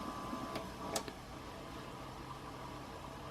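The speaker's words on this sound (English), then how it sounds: "Let's try the fast forward. You can hear the motor went up." Motor of a Wards GEN6827A 8-track recorder running in fast forward gives a faint, steady mechanical whir with a pair of brief clicks early on, alone and without talk.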